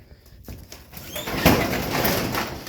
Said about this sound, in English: I gotta come over here and unlock and pop open the garage door